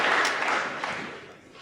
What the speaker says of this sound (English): He's still applauding.